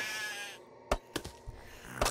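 A sheep in Craft the World lets out a bleat that fades off, followed by a few sharp clicks and taps from the game scene, all fairly quiet.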